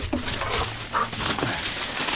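Dogs at home whimper and give a few short yips in quick bursts, fairly close, with no talk over them.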